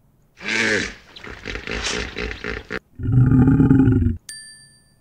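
Tiger roar in a children's animal-guessing game, a loud growling burst of about a second, after a voice talking and before a bright electronic chime.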